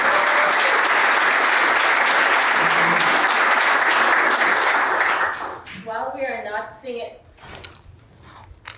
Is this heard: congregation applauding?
yes